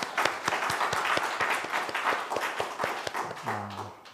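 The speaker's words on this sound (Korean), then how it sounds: "우리 주님께 한번 영광의 박수를 올려드리도록 하겠습니다." A church congregation applauding during a Sunday afternoon worship service, a dense steady clapping that fades near the end as a low tone briefly sounds.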